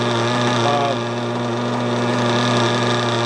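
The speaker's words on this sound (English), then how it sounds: "Give it a little heat, get it back running again." A small nitro engine during break-in runs close and loud, kept warm with a heat gun, giving a steady buzzing drone with a strong hum that holds even throughout, with no talking over it.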